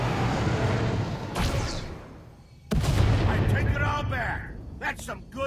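Heavy blaster gunfire and booming blasts erupt in Star Wars The Old Republic, two loud bursts with a brief lull between them, followed by crackling, ringing effects that fade.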